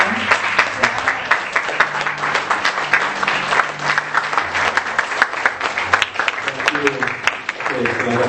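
Sustained applause from a church congregation welcoming a speaker to the stage with a standing ovation, dense and steady throughout, with low sustained musical tones running beneath it.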